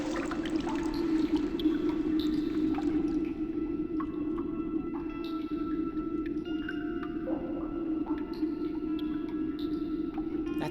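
Water pours steadily from a waterfall in the game Hedon, a constant close rushing with faint drips and scattered tones, no voices.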